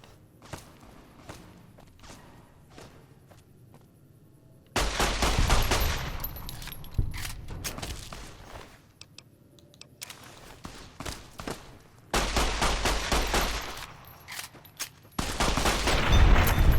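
The Light Shining in Darkness pistol from Fallout New Vegas fires in loud, rapid bursts during combat, with several clusters of shots. Quieter stretches of footsteps and rustling separate the bursts.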